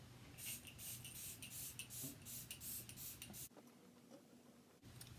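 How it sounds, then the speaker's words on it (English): Several short hissing bursts of makeup setting spray, hydrating then dewy-finish, close by, repeated in quick succession over a few seconds, then a quieter pause with one more brief burst near the end. "I got a hydrating setting spray and also a dewy finish setting spray."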